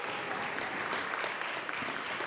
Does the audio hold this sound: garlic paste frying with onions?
no